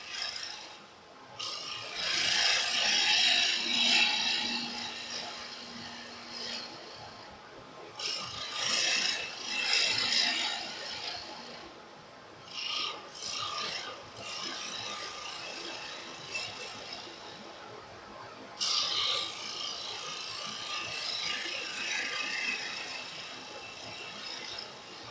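A bottom feeder bowl gouge cuts the inside of a wooden bowl on the lathe, giving repeated rasping, scraping bursts of varying length with short pauses between them, fairly close.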